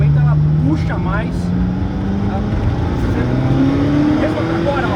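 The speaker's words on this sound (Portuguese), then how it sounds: "A retomada da F40 é muito boa" A Ferrari F40 engine pulls hard under acceleration, a loud, rising engine drone heard from inside the car, with people talking over it throughout.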